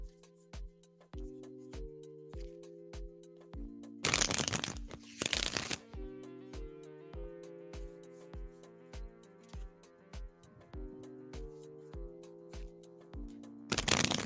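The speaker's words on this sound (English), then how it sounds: "Paula, I am shuffling for you now." Tarot cards are shuffled in two brisk, close riffling bursts, with a third starting at the end, over soft looping background music.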